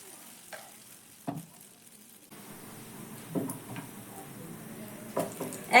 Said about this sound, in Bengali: একইভাবে এগুলোকে দেখো উল্টে পাল্টে আমি একটু লাল লাল করে ভেজে নিচ্ছি